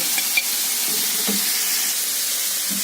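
Liver fries in hot oil Edirne style, giving a steady, close, bright sizzle that runs throughout, with a few soft clinks and stirring sounds and no talk.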